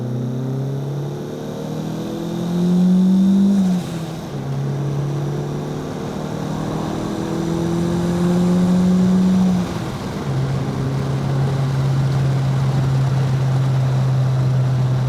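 A Chevy Sonic RS engine revs while driving during break-in and road tuning, its tone climbing and falling in repeated loud surges over a steady cabin drone, with no talk.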